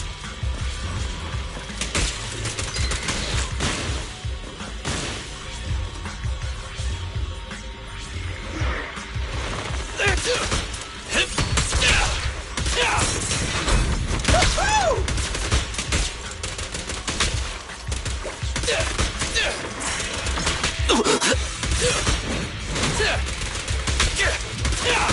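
Rapid gunfire in the video game Zenless Zone Zero, dense continuous bursts of shots and mechanical clatter throughout, loud and busy with game action.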